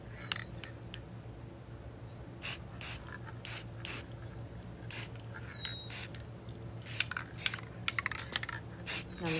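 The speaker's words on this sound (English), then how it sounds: "It wasn't spraying for a moment there." Short bursts of a cleaning spray bottle, hissing loud and close in irregular squirts of a second or less, with pauses and faint handling clicks between them, during white cleaning-supply painting work at home.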